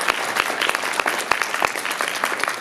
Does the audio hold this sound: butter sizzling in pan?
no